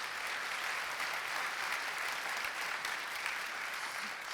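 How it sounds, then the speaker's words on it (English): A conference audience at a DevOps summit claps after a talk, dense sustained applause at an even level throughout, with no voices standing out. "give him a big hand of applause."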